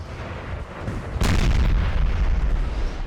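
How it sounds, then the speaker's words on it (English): Massed artillery firing in the Napoleon Total War battle game: a deep, heavy boom breaks out abruptly and then rumbles on as a dense roll of distant cannon fire, with no voices. "The artillery came back."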